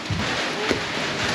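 Rain falls heavily beside an outdoor swimming pool at a campsite in Sampaloc, Quezon, a loud, dense, unbroken hiss of drops with no voices heard.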